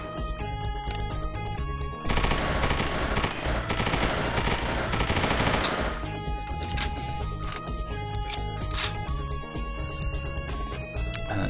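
HK MP5 submachine gun in the video game World of Guns, firing rapid automatic bursts with dense repeated cracks and some single shots, loud and close against a continuous backing track of music.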